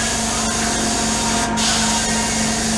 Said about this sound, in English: I'm just gonna spray a little bit in the mouth too